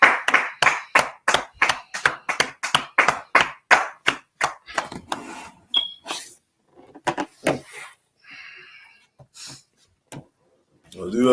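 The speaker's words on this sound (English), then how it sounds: "let's clap it up" Group at the close of a language class clapping in a steady, evenly spaced rhythm of loud sharp claps, then thinning into scattered irregular claps with brief pauses and some voices mixed in.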